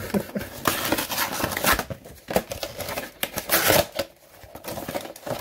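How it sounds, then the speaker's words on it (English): Repeated stabbing and ripping into a cardboard box holding a Black Series Armorer figure from The Mandalorian, a string of sharp, irregular punctures and tearing crunches close up, with no voices. "just gonna stab this box a bunch of times"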